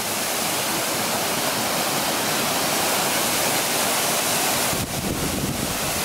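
Waterfall roar: steady, loud broadband rushing water running unbroken through the whole stretch, with a brief dip near the end and no voices.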